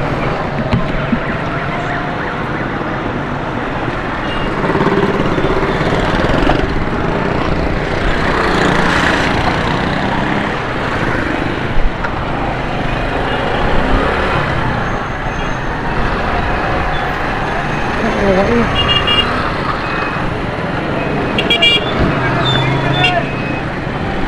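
Congested Karachi street traffic stuck in place, a dense continuous roar of idling engines and vehicles close by, with occasional faint higher tones that could be distant horns, no clear speech.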